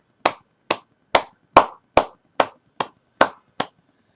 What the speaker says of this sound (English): clapping your hands